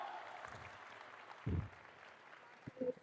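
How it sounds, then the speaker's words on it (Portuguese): A church audience applauds during a Catholic preaching, the clapping broad and fairly distant, swelling in short bursts with a few louder thumps near the middle and end. "Pra quem é filho dela, pode aplaudir, pode aplaudir, pode aplaudir"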